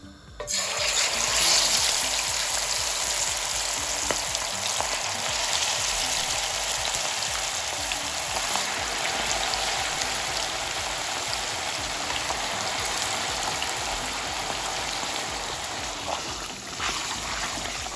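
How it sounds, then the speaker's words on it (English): Steady, dense sizzling hiss of liver sauce ingredients frying in hot oil, continuous and fairly loud throughout with no talking. "I'm going to leave everything here to be frying."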